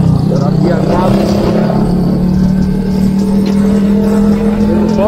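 A CG200 motorcycle whose 250cc engine has been bored out to 300cc runs with a loud, steady, buzzing drone close by, while a person talks over it throughout.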